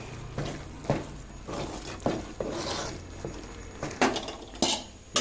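Thick Mysore pak mixture being stirred in a pan on the heat, a spoon scraping and clattering against the metal in repeated strokes, close and moderately loud over a steady low background, with no talking.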